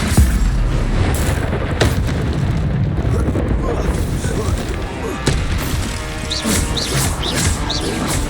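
A Confringo fire spell explodes during Hogwarts Legacy combat, with booming blasts and crashes over a dense, continuous battle roar and a brief shrill whoosh near the end.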